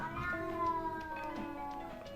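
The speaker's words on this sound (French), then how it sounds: "C'est mon chat. Il vous dit bonjour." A pet cat meows indoors, one drawn-out, fairly close call that wavers in pitch and carries on for a couple of seconds with no talking.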